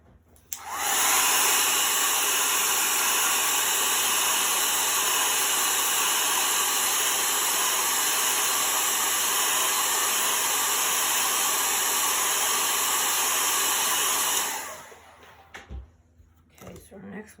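A handheld heat tool blows a steady, loud rushing whoosh for about thirteen seconds while warming a chalk transfer on a small table, then cuts off, leaving faint room sounds.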